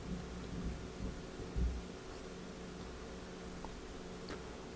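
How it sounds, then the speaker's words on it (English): Distant thunder rumbling low and faint beneath a steady rain-like hiss, with a soft swell partway through, no voices present. "What was that? Thunder?"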